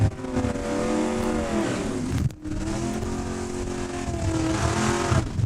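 Drag racing cars at Saskatchewan International Raceway in Saskatoon, with a loud, continuous engine roar rising and straining close by, briefly dipping midway before surging again.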